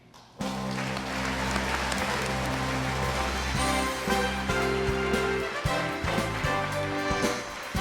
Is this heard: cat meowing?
no